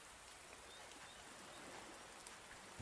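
Steady rain falling in the open in the survival video game Under A New Sun, an even hiss of drops on the ground throughout with no speech.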